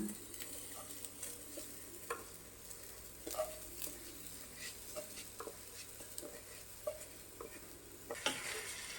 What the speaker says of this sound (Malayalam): ഇനി കുതിർത്ത് വെച്ച അരിയിലെ വെള്ളം നല്ലപോലെ ഊറ്റിക്കളഞ്ഞ ശേഷം ഇതിലേക്ക് ഇട്ട് കൊടുക്കാം